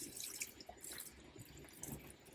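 Water runs and spatters faintly in the shower of a Ford Transit van, a quiet, uneven trickle with small splashes and drips, close by and with no talking.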